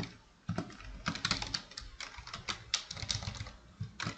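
Someone types on a computer keyboard at close range, producing irregular bursts of crisp key taps with short pauses between them and no voices.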